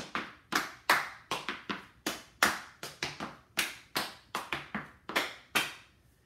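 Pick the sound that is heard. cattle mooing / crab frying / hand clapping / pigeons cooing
hand clapping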